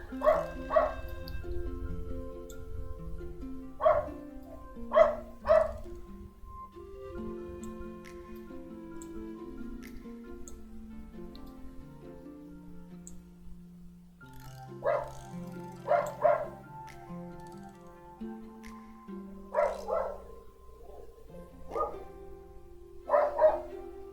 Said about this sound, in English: My god, I hate that dog.